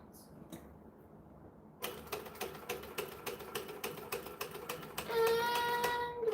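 Sewing machine stitching in front of a zipper, a fast, even rattle of needle strokes starting after a quiet moment and running steadily to the end, with a brief higher whir near the close.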